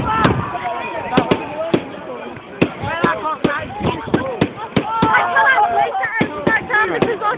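Fireworks exploding at Twin Lakes: a rapid, irregular string of loud cracks and booms, some overlapping, with crackling between bursts and people talking and exclaiming nearby.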